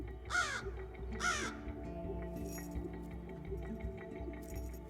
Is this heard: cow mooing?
no